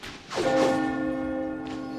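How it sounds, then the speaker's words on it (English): A bell chime from the Tower of Fantasy video game rings once with a clear struck tone that sustains and slowly fades, loud and close, with a faint second tap near the end. "It's a ding dong."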